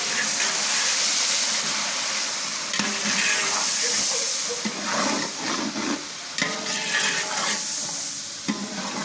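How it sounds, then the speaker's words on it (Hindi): Water added to a sizzling mutton masala in a pan for mutton pulao, a steady loud frying hiss with some stirring, close by and with no talk. "ये थोड़ा सा पानी डालूंगी इसका कलर निकालने के लिए।"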